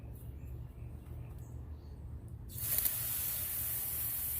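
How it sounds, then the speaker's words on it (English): A spray bottle set to mist sprays rosemary cuttings; after a quiet, faintly humming stretch, a loud, steady close-up hiss starts and continues to the end. "All I have to do is just lightly mist it in."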